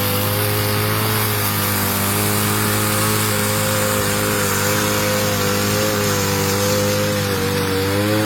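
A chainsaw engine runs continuously and loudly, its buzzing pitch wavering slightly as it cuts through coconut trees.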